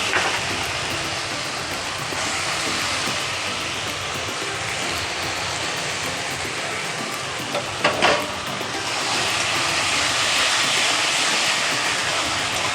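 Spices and tomato paste sauté in a pan for an aloo potol dish, giving a steady, close hiss of frying throughout, with a brief scrape of stirring partway through.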